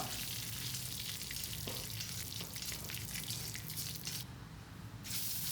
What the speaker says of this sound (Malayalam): വറ്റൽമുളക്, ഇനി ഒന്ന് കറിവേപ്പിലയും ചേർത്ത് കൊടുക്കാം.